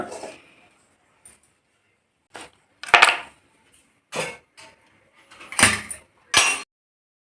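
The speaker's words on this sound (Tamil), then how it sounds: "அடுப்பில் ஒரு பாத்திரம் வச்சிடலாம்" Several sharp metallic clanks and knocks as a pot is set down and shifted on a stove for tempering, separated by short quiet gaps.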